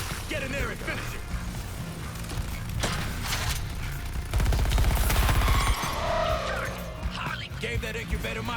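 Gunfire in the Suicide Squad: Kill the Justice League video game, bursts of rapid shots mixed with game effects and music, loudest in a dense volley midway, with someone talking over it.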